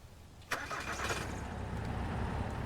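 A truck engine in the video game Mist Survival cranks and catches with a sharp burst, then settles into a steady low rumble that gradually builds.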